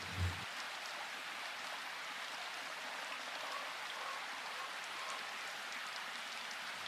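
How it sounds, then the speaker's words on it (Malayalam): Rain falling in the forest of Mudumalai tiger reserve, a steady, even hiss of drops on foliage, moderately faint and continuous, with one low thump at the start. "ഫുൾ സൈലൻ്റായി ഈ മഴ ആസ്വദിക്കാൻ തന്നെ എന്ത് രസമല്ലേ"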